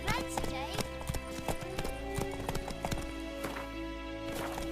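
Roach the horse gallops in The Witcher 3, hooves beating a quick rhythmic clip-clop with a brief whinny, under a talking voice and game sounds.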